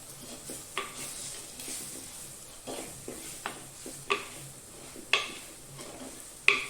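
Spice powders sizzle gently in a hot clay pot while a spoon stirs and scrapes, making intermittent knocks and scrapes over a steady soft frying hiss during fish curry preparation.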